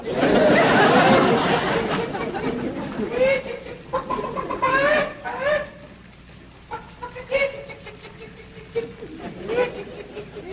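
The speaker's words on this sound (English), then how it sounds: "Jethro, go on out there and catch us a chicken" Farmyard chickens cluck and squawk in a burst of loud, excited calls, then settle into scattered short clucks and chatter nearby, with people talking over them.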